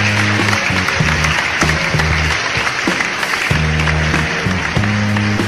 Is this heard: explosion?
no